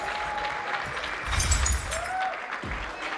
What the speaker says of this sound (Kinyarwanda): Amashyi cyane kuri Papa Sava, ladies and gentlemen.